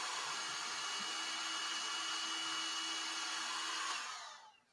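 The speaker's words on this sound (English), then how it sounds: "Oh, he has a little portable vacuum." A small portable vacuum cleaner drones steadily and loudly with a high-pitched whine, used indoors to suck up a spider, then winds down and cuts off near the end.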